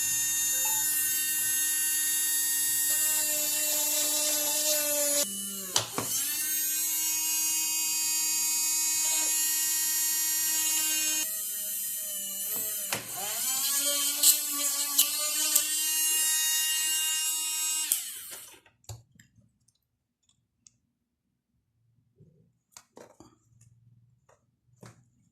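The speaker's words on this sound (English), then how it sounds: "drill a hole." A high-pitched electric drill whines steadily for about eighteen seconds drilling a hole through hardened epoxy on a car bumper screw holder, briefly stalling and restarting, then stops, leaving quiet clicks and handling noises.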